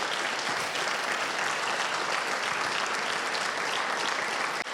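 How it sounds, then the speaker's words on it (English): Dense, steady applause from a conference audience fills the whole stretch at even strength, with no voices over it, before cutting off abruptly at the end. "I wouldn't clap that way for someone who did this and did it for free"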